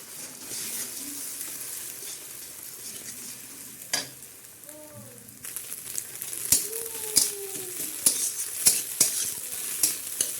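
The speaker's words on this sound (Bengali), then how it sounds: "ডিমটা এভাবে ঝুলো ঝুলো করে ভেজে নিয়েছি" Salted beaten eggs frying in hot oil, a low sizzle that grows busier and louder toward the end, with sharp spatula taps and scrapes near the close.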